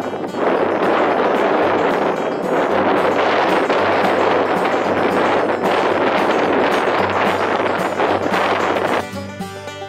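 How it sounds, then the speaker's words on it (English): Wind blows hard across a lake on a river fishing outing, a loud, continuous broadband rush buffeting the microphone with slight gusting, easing off just at the end. "Then the wind picked up."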